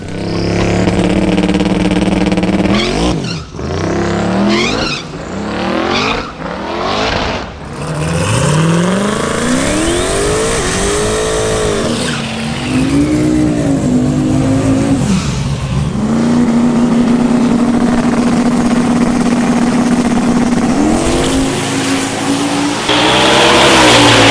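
Twin turbo Camaro making a drag racing pass at LS Fest: loud, close engine revving with sharp throttle blips and gear changes, then a long sustained high-revving run as the car pulls away, no talking.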